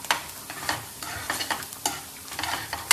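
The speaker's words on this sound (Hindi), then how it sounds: "ये है कांदा जो फ्राई हो रहा है, इसमें रेड रेड चटनी डाली हुई है हमने।" Onion frying in a pan with red chutney, stirred in quick repeated scrapes over a soft sizzle, close and without talk.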